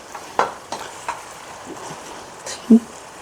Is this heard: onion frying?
yes